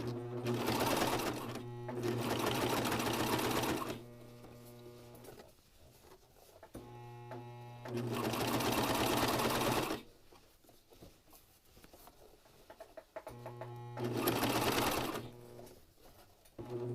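Sewing machine stitching a neckband seam on white fabric, running in three loud steady bursts of about two to four seconds each, with quieter pauses between them.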